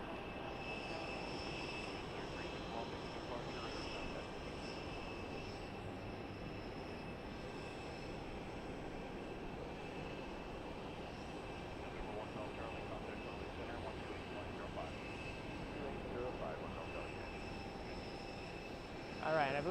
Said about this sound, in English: I believe that is the Alaska 737 MAX 9 coming in from Portland, Oregon